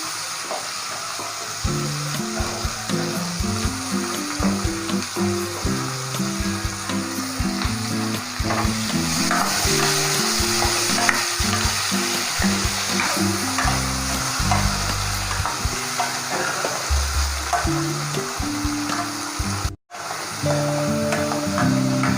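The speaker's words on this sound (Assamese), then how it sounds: "অকণমান টাইম ভাজিব লাগিব" Tomatoes sizzle and fry steadily in a pan with oil, cardamom, cumin, chili, ginger and garlic for butter paneer, with frequent clinks and scrapes of a stirring spoon throughout and no talking.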